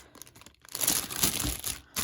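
Plastic bag sealed around a stuffed Louis Vuitton Siena GM handbag crinkles and rustles in several close, uneven bursts with no voices.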